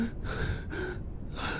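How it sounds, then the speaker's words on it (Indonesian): A woman gasps for air in short, breathless pulls, three quick strained inhalations close to the mic with no speech, as if struggling to breathe in the dark. "Sesak nafas."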